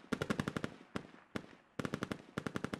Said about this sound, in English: Both teams trading rounds at probably what looks like 500 meters.